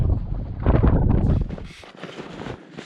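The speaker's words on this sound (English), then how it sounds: "The wind's dying down." Wind gusting across a frozen lake on the Gunflint Trail in winter, a rough, blustery roar buffeting the microphone, strongest early on and easing to a lighter steady rush, with no voices.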